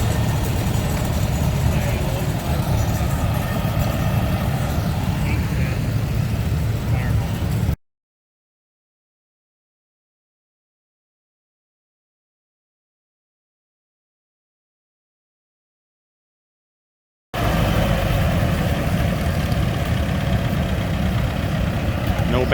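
A white 1950 demonstrator C tractor idles at an old gas tractor show in Mid Michigan, a steady, close, low engine rumble. It drops out to about ten seconds of silence mid-clip, with background chatter mixed in.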